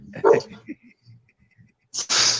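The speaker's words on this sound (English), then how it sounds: "Bro, this dog going crazy." A dog barks in a room during a casual sports chat, giving a couple of sharp, close barks and a sudden loud burst, with quiet murmurs and small sounds between.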